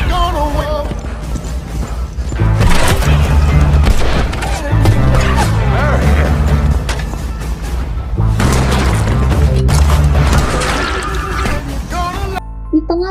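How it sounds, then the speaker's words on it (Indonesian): Gunfire and a bomb blast as two cowboy gangs fight over a pile of cash in a Western film, loud booms and shots mixed into a dense, continuous dramatic score. "Piket langsung menembak bom di tumpukan uang puluhan ribu dolar Rufus hingga meledak hangus terbakar, dan pertempuran antara dua geng koboi itu pun pecah."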